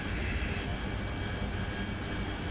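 AV-8B Harrier jet engine in the DCS World flight simulation game, a steady, dense, loud roar with a broad rushing hiss that holds constant throughout, with no voices.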